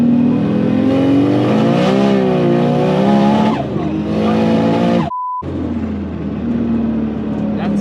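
A 900 hp Nissan Skyline engine revs hard and loud up close during a test pull, its tone climbing and wavering as it breaks up, with people talking over it and a brief dropout near the end.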